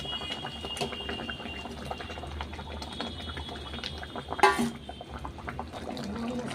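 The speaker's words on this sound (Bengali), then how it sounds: "জল দিয়ে দিচ্ছি" Water is poured into a pot of boyal fish curry bubbling on a gas stove, with soft simmering and a brief splashing pour midway, quiet and close.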